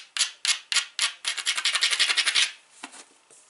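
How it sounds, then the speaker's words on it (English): A novaculite flint knife preform has its edge ground with repeated short rasping strokes. Several separate scrapes come first, then a faster run of rhythmic grinds, and a few quieter rubs close it out, all close and crisp. "Let's grind again."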